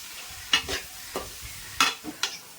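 Whole spices fry in hot oil for mutton biryani, heard as a quiet background sizzle broken by a few sharp close scrapes and clinks of a spoon against the pan.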